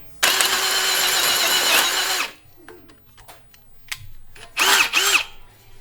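A power drill drives screws through a 100mm dropper flange for a caravan diesel heater install. One long, loud whirring burst is followed by a few faint knocks and two short closing bursts.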